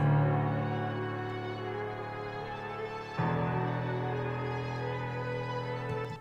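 A sustained, droning tonal bassline sample pitched up two semitones, shifting to a new held note midway, soft and steady without any talking.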